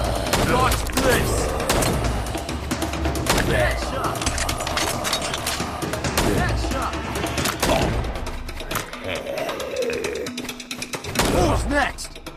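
Rapid bursts of gunfire in a mobile shooting game on Android, repeated volleys and sharp shots mixed with game music and effects, loud and continuous, with a voice shouting game lines over it.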